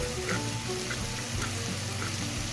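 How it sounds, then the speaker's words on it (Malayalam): Green chillies sauté in hot oil for a chicken curry, giving a dense, continuous close-up sizzle with faint crackles and no voices. "അപ്പം നന്നായിട്ട് നമുക്ക് പച്ചമുളക് മാറുന്ന വരെ വഴറ്റിയെടുക്കാം"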